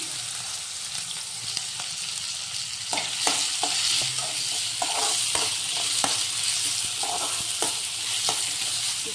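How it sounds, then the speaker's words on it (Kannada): Chopped onion and mixed vegetables stir-frying in hot oil for vegetable noodles, a constant loud sizzle close up with scattered clinks and scrapes of stirring throughout, no voices. "ಈ ಥರ ಚಿಕ್ಕದಾಗಿ ನಾನೆಲ್ಲ ತರಕಾರಿನ ಹೆಚ್ಚಿ ಫ್ರೈ ಮಾಡ್ಕೊತಿದ್ದೀನಿ ಎಣ್ಣೆಯಲ್ಲಿ"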